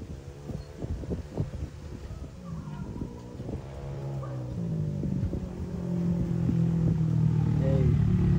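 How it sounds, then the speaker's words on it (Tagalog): A Yamaha Nmax v2 scooter engine being prepped for an endurance race, running steadily and building to a louder, sustained drone toward the end, with some clatter early on. "Kinaspol ni Vince Moto yung motor natin"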